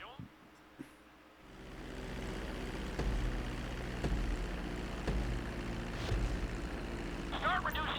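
An airplane engine drones steadily during a runway landing approach in GTA 5, rising from quiet to a sustained hum with a few faint clicks, while a voice talks over it.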